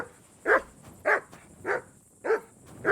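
A dog in Kingdom Come Deliverance 2 gives five evenly spaced barks about half a second apart, moderately loud and close, with no talking over them.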